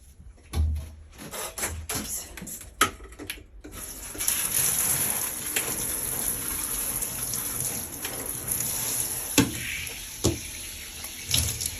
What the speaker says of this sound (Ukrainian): брудна водичка стікає